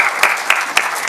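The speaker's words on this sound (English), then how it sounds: "Big applause." Audience applause after a masterclass talk on generative AI in media, a steady broadband wash of many hands clapping throughout, with a few sharper accented claps standing out.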